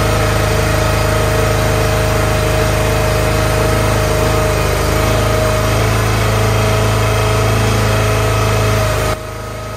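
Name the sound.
Split Force 13/20T firewood processor engine running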